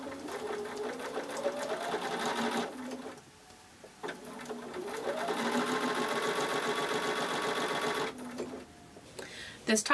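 A sewing machine runs close up, topstitching fabric on a change purse, in two long bursts of steady rapid whirring stitching separated by a brief pause, with a short start near the end.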